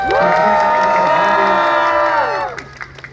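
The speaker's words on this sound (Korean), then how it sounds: "부산 잘 오셨다고 박수 한번 크게 드릴게요." A street crowd at a busking show in Seomyeon, Busan, cheers loudly with sustained shouting voices blending into a bright roar, then drops away into scattered claps and faint voices.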